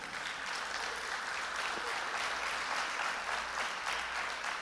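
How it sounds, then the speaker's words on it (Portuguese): Audience at a church sermon applauding steadily throughout, a dense, even wash of many hands clapping that holds at a constant level from start to finish. "Quem acredita nisso, aplauda Jesus."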